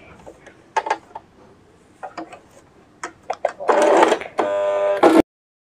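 A sewing machine stitches suit fabric: light clicks and handling taps, then two close, loud whirring bursts of stitching that stop abruptly into silence.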